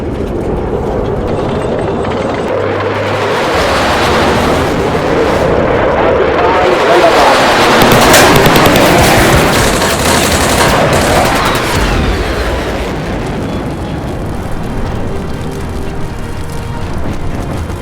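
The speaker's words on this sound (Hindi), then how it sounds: "पूना हॉर्स के टैंक कॉलम्स को दुश्मन की भारी आर्टिलरी और एयर अटैक्स का सामना करना पड़ा" Heavy war-film battle noise around tank columns of the Poona Horse: loud, continuous gunfire and rumbling artillery blasts building to a roaring peak midway, with voices mixed underneath.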